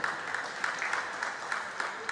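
An audience claps for a speaker at a pest control association panel session in Nigeria, steady, dense applause at moderate distance with scattered sharper claps throughout.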